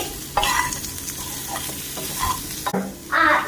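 Chopped guava gets stirred with salt and cumin powder in a bowl, scraping and clinking in short uneven strokes close up, with no voices.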